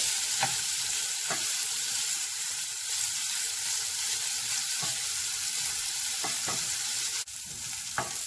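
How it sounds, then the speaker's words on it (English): Small-cut capsicum fries in hot oil in a pan, giving a steady soft sizzle with occasional brief clicks of stirring over several seconds, fairly quiet and close. "It takes some time for it to get fried up."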